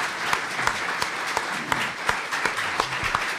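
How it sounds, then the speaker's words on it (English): Audience members at a panel discussion on a governor's early swearing-in give a sustained round of applause, a steady patter of many hands with sharper individual claps standing out. "I'll ask this distinguished audience to thank this distinguished panel with a round of applause."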